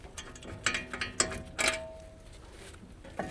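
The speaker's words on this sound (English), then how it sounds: "long socket with the extendable ratchet, remove the caliper bracket mounting bolts" Extendable ratchet backing out caliper bracket mounting bolts on a 2013-2019 Ford Explorer front brake: a series of quick, fairly quiet ratcheting clicks in irregular bursts, heard close up with no talking.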